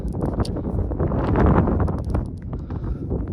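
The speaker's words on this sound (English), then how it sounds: "That wind keeps blowing my camera over" Gusty wind buffets a microphone outdoors in heavy, rumbling bursts that swell and fade over a few seconds.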